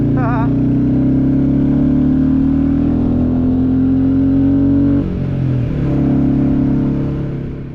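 A Royal Enfield motorcycle engine and exhaust drone steadily while riding a road toward Braemar, loud and close, dipping briefly as the throttle eases before picking back up.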